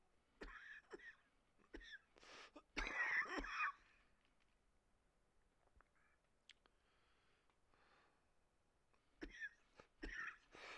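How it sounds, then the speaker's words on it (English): Repeated coughing fits from one person nearby, a few bursts clustered early and again near the end, with quieter gaps between. "Persistent cough is still being persistent."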